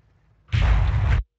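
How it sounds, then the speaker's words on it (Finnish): A tank cannon fires in a tank battle video game, a single loud, heavy boom with a sustained roar lasting under a second before cutting off sharply, alone without talk. "ensimmäinen laukaus kajahtaa."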